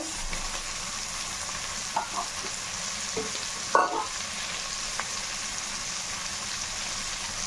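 Beans and carrot stir-fried in a hot pan for homemade veg fried rice give a steady, even sizzle throughout, broken by a few soft clinks and scrapes of the spoon.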